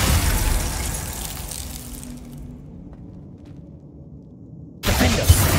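Glacius freezing spell cast in the Hogwarts Legacy video game: a crackling, icy hiss that gradually fades into near silence, followed by a sudden sharp burst of noise near the end.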